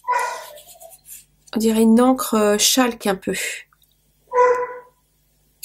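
Mitsu, a pet dog, barks in short bursts that mingle with someone speaking French nearby, with pauses of near silence between.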